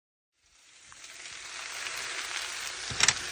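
Tofu stir fry with onions, mushrooms, fresh turmeric, zucchini and spinach sizzles steadily in a pan, a bright hiss that swells after a quiet start and crackles a bit louder toward the end.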